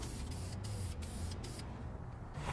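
An aerosol can sprays clear coat onto an engine valve cover in a continuous close hiss, broken by a few brief pauses before trailing off near the end.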